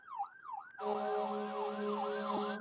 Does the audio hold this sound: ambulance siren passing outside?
yes